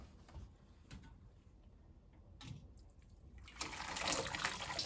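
Cooked pasta water pours into a colander in a home kitchen, starting as faint trickles and splashes, then swelling into a steady rushing stream of draining liquid.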